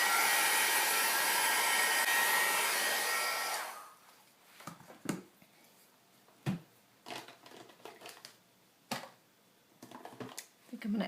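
A hair dryer blows steadily and loudly for about three and a half seconds to dry paint on an index card, then cuts off, leaving faint scattered clicks and handling taps.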